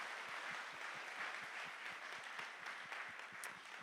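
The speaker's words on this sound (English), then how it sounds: "And a round of applause to all our sponsors for making all of this possible." Audience applause for sponsors at the UC Berkeley AI Hackathon 2026 opening ceremony, a steady dense clapping from a large crowd that fills the hall evenly and holds without a break.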